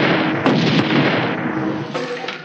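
Rifles set to stun fire in a dense film action scene, giving a loud, continuous barrage of blasts and bursts with sharper shots near the middle and end, no voices on top.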